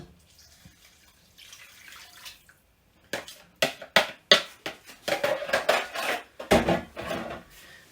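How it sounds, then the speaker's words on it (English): Saffron stock pours into a chicken pilaf pot with a splashing rush, then clinks and knocks of a utensil against the pot follow in a quick uneven series, close and with no talk. "And then finally, the stock with the saffron."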